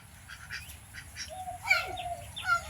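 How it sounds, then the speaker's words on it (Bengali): Ducks quacking and honking nearby, several short nasal calls scattered over a steady low background, one louder burst near the end, with no talking. "এই যে হাঁস।"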